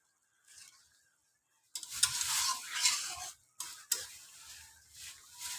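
Radhuni and fennel powder are stirred into frying tengra fish in a pan, bursts of sizzling and spoon scraping in short strokes with near-silent gaps between them.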